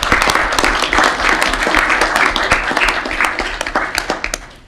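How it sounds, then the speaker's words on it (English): Applause from a city council meeting audience, with distinct individual claps standing out close by over a denser crowd, fading toward the end. "If we could give them a round of applause,"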